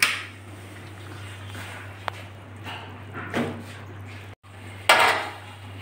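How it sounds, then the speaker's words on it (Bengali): Cooked koi fish in a chili-oil curry being lifted onto a plate, with scattered light clinks of utensil against dish and a few soft knocks, close and fairly quiet over a steady hum. "আমি এখন একটা প্লেটে মাছগুলো তুলে নিচ্ছি।"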